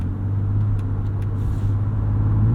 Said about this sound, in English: Gives us a few more revs, exhaust opens up